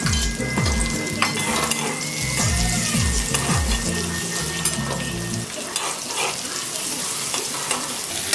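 Chopped onion fries in hot oil with black cumin seeds for a fish curry, hissing loudly with rhythmic scraping stirs for several seconds, then settling into a softer, quieter sizzle.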